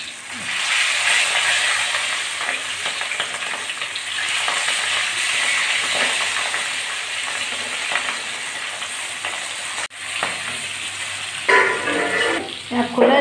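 Rohu fish frying in hot oil in a kadai as the pieces are flipped to the other side, a loud continuous sizzle up close with stirring scrapes and a sharper crackle near the end.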